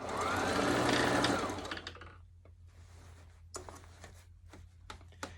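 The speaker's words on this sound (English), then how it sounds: "This fake fur don't want to sew." A sewing machine stitching fake fur fabric runs in a loud continuous whir at first, then slows into short bursts of stitching separated by pauses, close up with no talk.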